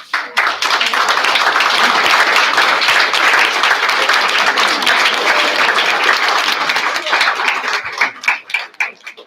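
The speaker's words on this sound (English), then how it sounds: "Let's have applause, and then we have time for a couple more questions." A crowd at a League of Women Voters candidate forum applauds loudly and continuously, dense close clapping that thins out into a few scattered final claps.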